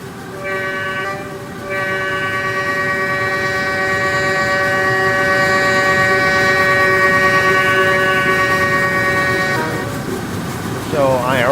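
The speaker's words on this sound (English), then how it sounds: "It looks like the train is absolutely speeding up until then as well." A simulated Northeast Metroliner train with remodeled Amfleet cars in the RO-Scale video game sounds a long, steady multi-tone horn chord lasting several seconds, loud and close over rumbling rail noise, then a brief rising whine at the end.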